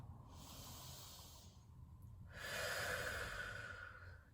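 Slow deep breaths during a family yoga breathing exercise: a soft airy inhale, a pause, then a longer, stronger exhale, close and quiet with no talking.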